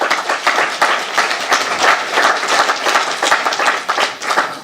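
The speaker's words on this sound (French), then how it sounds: "Donc je vous propose de les applaudir aussi." A conference audience applauds with dense, sustained clapping from many hands, loud and fairly close, holding steady throughout without any voices over it.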